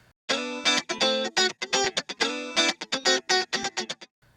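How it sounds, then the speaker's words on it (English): Short melodic phrases thickened by a Roland Dimension D chorus emulation, choppy bright bursts separated by brief gaps, no voices. "and the Roland Dimension D chorus."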